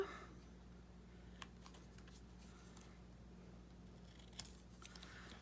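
Scissors cut paper tags made from neutral masterboards and vintage advertisements, giving a few faint, sparse snips against a quiet room hum.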